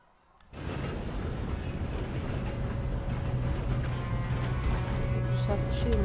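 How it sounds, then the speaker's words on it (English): A train running in Red Dead Redemption 2, starting abruptly and then rolling on as a steady, loud rumble with rhythmic rail clatter and a faint whistle-like tone, continuous to the end. "Oh, we need to stop this train."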